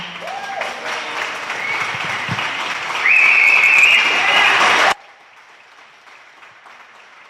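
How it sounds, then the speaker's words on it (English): Audience applause at a town hall gathering after a speaker finishes, steady clapping that swells louder partway through with some voices and whistles mixed in, then cuts off abruptly to near quiet. "Can we please give her another round of applause?"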